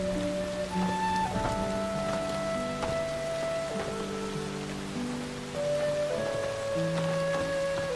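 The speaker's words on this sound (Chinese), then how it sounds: "下雨了" Steady rain patters on surfaces in a period-drama outdoor scene, a soft continuous hiss beneath sustained background music throughout.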